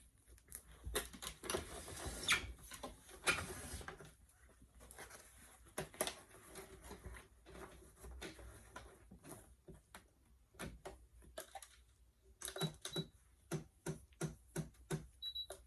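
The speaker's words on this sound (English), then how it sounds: "sew it together with a really wide zigzag stitch" A sewing machine stitches overlapped elastic for a leggings waistband on its widest zigzag setting, running in short bursts of rapid mechanical chatter, with quicker, evenly spaced bursts near the end.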